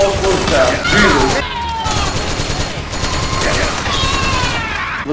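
P90 gunfire in the PS3 video game Metal Gear Solid 4: Guns of the Patriots, sustained automatic fire in a loud, chaotic battle mix with shouting voices, crashes and effects layered over it throughout.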